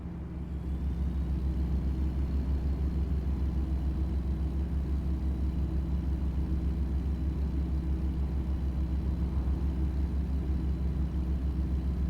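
A steady, loud low rumble of a truck engine idling or running close by, constant throughout with no voices.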